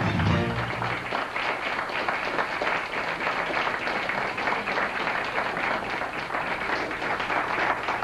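A studio audience claps in continuous, dense applause that holds at a steady, fairly loud level throughout, with a brief voice at the very start.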